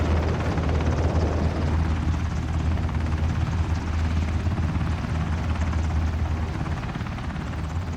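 A helicopter in the battle-royale game Ring of Elysium drones steadily and loudly for the whole stretch, its rotor thrum deep and constant with no voices over it.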